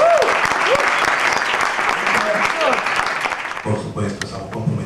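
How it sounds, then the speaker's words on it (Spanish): An audience at a talk on band arrangements gives a strong round of applause for a music teacher, a loud dense clatter of many hands that thins out near the end as a voice and faint musical tones come in. "vamos a brindarle un fuerte aplauso al maestro Victoriano Valencia"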